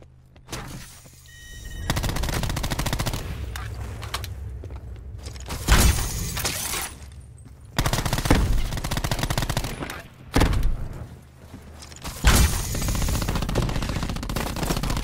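Rapid gunfire bursts in a shooter video game, loud and dense, sustained automatic fire with sharp breaks and heavy impacts between volleys, no talk over it.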